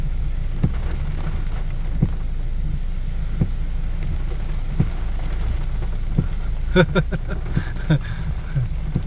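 Rain falls steadily at an excavation site during the rainy season, a constant hiss with occasional heavier drops and brief knocks, and a short cluster of sharper sounds near the end.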